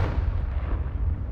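A Confringo fire spell blasts in Hogwarts Legacy, a loud, sustained explosive roar with heavy low rumble filling the whole moment, with no talking over it.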